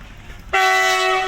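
A train horn blares suddenly at a railway station, loud and close, holding a steady bright tone after a moment of low background rumble.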